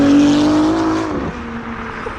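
An Acura NSX engine holds a steady high-pitched rev that drops off partway through and settles into a lower whirring run, loud and close.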